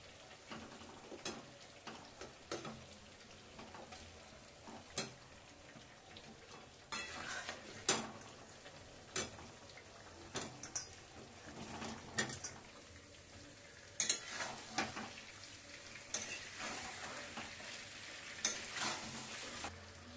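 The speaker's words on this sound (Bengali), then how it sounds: "এবার এই আলুটা আমি এর মধ্যে দিয়ে একটু কষিয়ে নেব।" Boiled potato chunks stir-fried in spiced oil for a Bengali vegetarian aloo dum, with a steady low sizzle broken by repeated scraping and clinks of a spatula against the pan.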